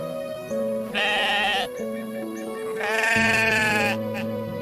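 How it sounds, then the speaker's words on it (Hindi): Two drawn-out, wavering goat bleats from a cartoon, one early and one later, ring out clearly over a steady droning backdrop. "एक काले रंग का लंबे सींगों वाला हट्टा कट्टा बकरा जंगल में आकर चरने लगता है।"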